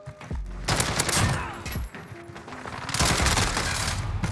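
Dense bursts of automatic gunfire from an Amax rifle in a video game, loud and close, with rapid shots running through most of the stretch and a brief lull in the middle.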